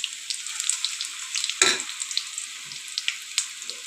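Onion bhaji fry in hot oil with a bright, crackling sizzle, close and steady, broken by a few louder splashes and clinks as more batter drops in; no voices.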